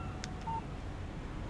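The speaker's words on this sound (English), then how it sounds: "Text message from Barry." A short electronic beep-tone alert sounds once from a phone receiving a text message in the Alan Wake video game, over a faint steady background hum.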